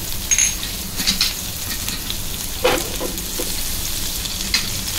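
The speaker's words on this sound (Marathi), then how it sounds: "आता मी लसूण ठेचून घेतली आहे, साधारण 7-8 पाकळ्या ठेचून घेतल्या आहेत। ह्या बघा, त्या पहिल्या टाकून घेते।" Crushed garlic cloves hit hot oil in a pan on medium-high heat with a loud, steady sizzle, broken by a few stirring scrapes and utensil clinks and no voices.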